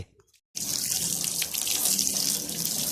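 Water rinsing a car body before painting starts abruptly after a short near-silent moment, then runs as a steady loud hiss and splash with small spattering variations until the end.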